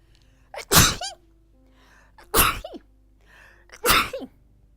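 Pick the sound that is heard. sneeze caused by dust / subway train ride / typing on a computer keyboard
sneeze caused by dust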